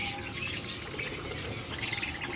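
Pet parrots nesting in clay breeding pots chirp and tweet in a dense, continuous chatter of overlapping high calls, moderately close, with no talking.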